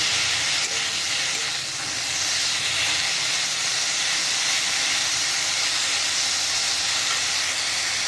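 Pumpkin leaves frying in a pan with water, giving a loud, continuous steamy sizzle and hiss that holds steady without talk.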